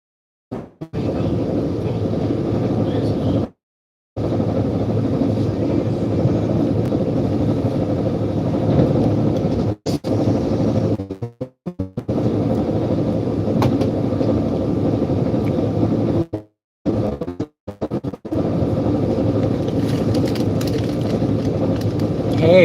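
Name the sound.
Amtrak train riding north to Sacramento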